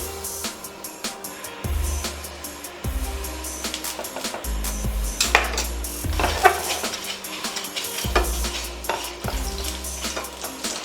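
Sweet potato paratha frying in ghee on a pan, a steady close sizzle broken by several stirring and scraping sounds and occasional utensil clinks against the pan.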